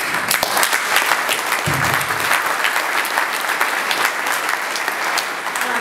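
Crowd applause fills a town hall on the oil moratorium hosted by a Louisiana Tea Party group, steady and dense with many hands clapping throughout, a brief low murmur briefly underneath.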